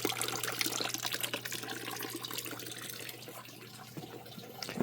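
A repaired garden fountain with a flexible liner and stone edging trickles and splashes softly, a faint continuous burble of running water close by.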